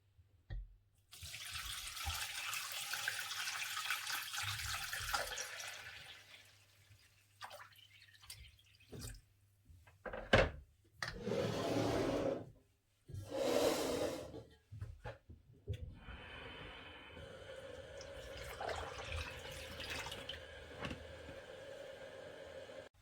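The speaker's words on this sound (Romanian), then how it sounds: "Voi pune apă rece în borcane până la nivelul capacelor." Cold tap water runs into glass jars of quince compote in bursts as each jar is filled to the lid. Splashing and trickling come close up, with short quiet gaps between pours.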